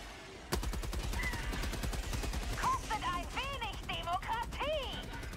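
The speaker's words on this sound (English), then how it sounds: "Use the HMG turret or something!" HMG emplacement turret in Helldivers 2 hammers out a long, rapid, evenly spaced burst of heavy machine-gun fire, loud and close, while alien creature shrieks and squeals rise and fall over the shooting.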